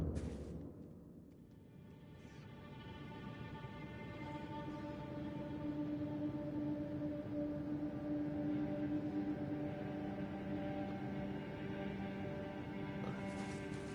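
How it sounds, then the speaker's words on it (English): Dark, low cave ambient music from the video game Elden Ring: deep rumbling drones with long sustained tones swelling slowly, heard alone with no talk. "One of the caves in Elden Ring sounds like this."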